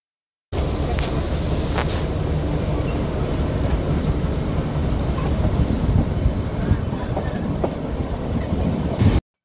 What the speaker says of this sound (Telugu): రైలు రోడ్డు పక్కనే వెళ్తున్నాయి